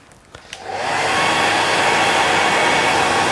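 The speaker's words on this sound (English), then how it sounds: "I'm just going to draw the hairdryer, or blow the hairdryer through it just to show you the shape." A hairdryer blows air through a tied salmon fly, first a couple of soft clicks, then the motor spins up into a loud, steady whooshing roar that holds close and constant.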